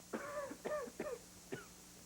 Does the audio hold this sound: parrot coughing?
yes